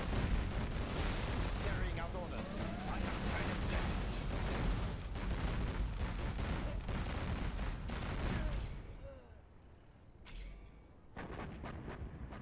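Battle Master tanks in C&C Generals Zero Hour pound away with rapid cannon fire, a dense barrage of booming blasts and explosions that thins out near the end, with game voice lines mixed in.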